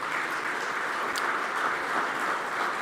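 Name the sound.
audience applause at racing awards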